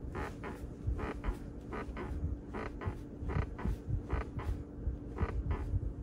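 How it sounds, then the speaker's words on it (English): An interior trim squeak near the center armrest of a 2025 Toyota Camry XSE AWD with about 3,000 miles, repeating as short creaks in an irregular rhythm over a low cabin hum, faint and close. "this one has a little squeak here down by the center armrest"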